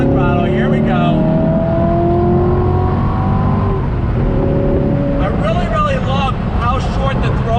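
A C7 Corvette Grand Sport accelerating on throttle, its engine note climbing in pitch, easing briefly and then climbing again, close and loud beneath someone talking.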